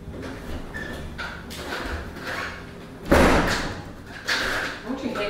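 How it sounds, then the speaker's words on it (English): A door is slammed shut indoors with one loud, sharp bang partway through, followed by a softer thud, with muffled voices and room noise around it. "Don't you hate you gotta slam the damn door?"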